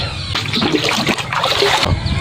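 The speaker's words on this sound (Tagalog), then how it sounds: "Tapos lagyan din natin ng tubig yung abono." Water poured into a separate container holding a spoonful of humus fertilizer, a steady splashing trickle lasting about two seconds, close and fairly loud.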